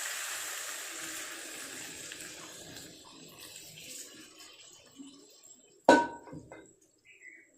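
Water left from boiling a goat head is poured into a pan, a continuous splashing pour that gradually fades, then a sharp clank of metal cookware near the end.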